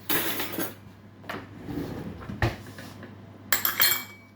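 A metal fork scrapes and clinks against a dish while mixing food with sriracha sauce, in several short bursts of scraping separated by brief pauses, close and fairly loud with no talking.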